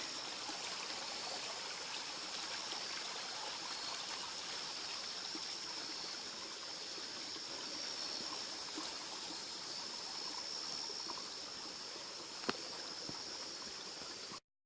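Steady creek water flowing and babbling continuously, a broad even rush with no voices, one brief click near the end.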